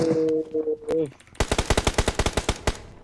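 Rapid automatic gunfire in the battle-royale game PUBG on the Livik map, a burst of about a dozen loud, close cracking shots in quick succession, preceded by brief tonal game sounds and a short voice.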